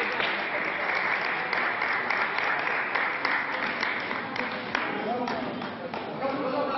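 Applause greeting tennis player Simona Halep as she arrives in the official lounge of Henri Coandă airport in Bucharest, steady crowd clapping lasting throughout with voices talking over it.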